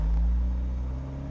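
An Abarth 124 Spider drives along narrow one-way streets, its engine giving a steady low rumble heard from inside the car with no talking.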